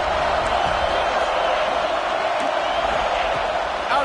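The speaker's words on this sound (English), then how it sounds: "how nice is it to have the home crowd going absolutely bananas?" A home crowd at a football game roars loudly and steadily, filling the stadium with a dense, unbroken wash of cheering noise.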